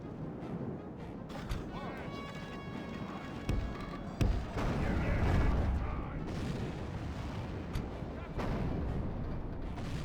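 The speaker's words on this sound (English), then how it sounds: "Catapults, you may stop firing." Catapults hurling stones in a Medieval 2 Total War siege battle, with repeated heavy booming impacts and rumbling crashes amid continuous battle din, occasional sharp thuds standing out over the low roar of fighting.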